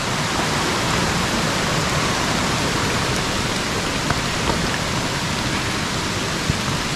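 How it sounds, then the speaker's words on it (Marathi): Water from a waterfall's river rushes in a steady, loud, broadband roar close by, continuous and unbroken with no voices. "हे बघा त्या धबधब्याची नदी, हे पाणी त्या डॅममध्ये जातं."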